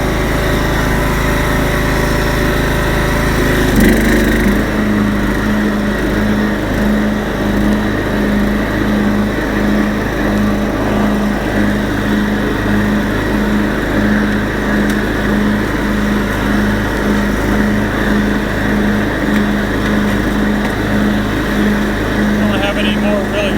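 An old Craftsman lawn mower with a reconditioned motor runs steadily, its engine droning loud and close with a continuous pulsing rumble for the whole stretch.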